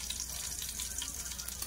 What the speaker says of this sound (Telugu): ఇప్పుడు నేను ఇందులోకి ఫ్రై చేస్తున్నాను కదా ఆనియన్స్ కొద్దిగా వేస్తాను